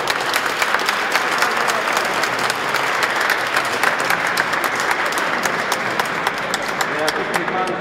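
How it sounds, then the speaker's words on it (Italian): Crowd at the San Rocco procession festivities clapping steadily, a dense sustained round of applause with some talk mixed in. "Facciamo un applauso."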